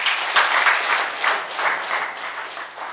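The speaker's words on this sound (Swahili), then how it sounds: "wasomaji, na tuwapigie makofi pia." Congregation at a Swahili Sunday Mass during Lent applauding the altar servers and readers, a steady wash of many hands clapping together in a church, sustained and fairly loud with no voices over it.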